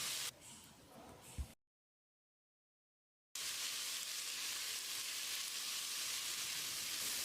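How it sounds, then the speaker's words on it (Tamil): Chopped potato, cabbage, carrot and beans sauté in a pan for vegetable kurma, making a steady, close hissing sizzle that drops out into silence for a couple of seconds before resuming. "ஒரு 30 செகண்ட் இதை வதக்கி விட்டுடலாம்"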